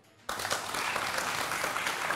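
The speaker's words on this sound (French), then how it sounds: "Et ça s'applaudit." Applause from a French television game-show studio audience breaks out abruptly after a brief hush and then holds steady, a dense, loud wash of many hands clapping together.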